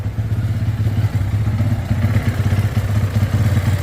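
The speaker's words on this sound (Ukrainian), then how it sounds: "Слухаємо двигун. Двигун працює дуже добре." A motorcycle engine idles up close with a steady, rapid thumping rhythm and mechanical clatter, loud and continuous throughout.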